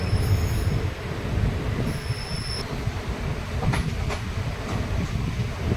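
The Mayurakshi Express from Deoghar to Howrah runs on a hill line in Jharkhand, its wheels giving off high, thin squeals over a steady low rumble of rolling cars, with faint clicks of the track.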